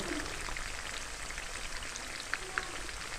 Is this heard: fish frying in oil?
yes